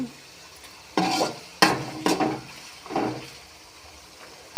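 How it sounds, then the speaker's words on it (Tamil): Garlic and onion frying in oil in a pan for a tomato thokku, a low sizzle broken by four or five loud bursts of a spoon stirring and scraping the pan, close up and without talk. "பூண்டு வெங்காயம் ரெண்டும் நல்லா வணங்கட்டும்"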